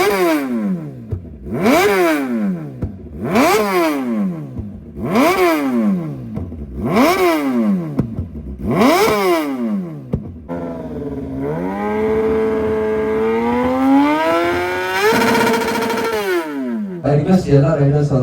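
A motorcycle engine, ridden out on the road during an auto expo ride, is revved hard in six sharp throttle blips, each rising and falling, then held in a long sustained rising rev before cutting off, loud and close.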